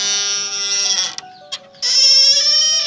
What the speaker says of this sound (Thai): ประตูของท่านมีเสียงแบบนี้ครับ